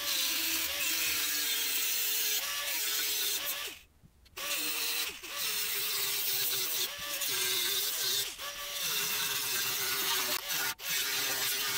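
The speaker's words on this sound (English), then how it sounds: "I'm gonna cut all the way around, separating this piece from this piece." A power tool grinds steadily while cutting all the way around the weld of a metal keg lid, close and continuous, with one brief pause and slight pitch wavers as the cut moves.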